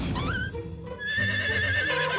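A horse whinnies loudly and close, a shrill descending neigh followed by a second higher, wavering call, with no talk over it.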